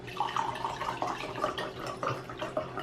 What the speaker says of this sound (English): We're pouring a second glass of wine.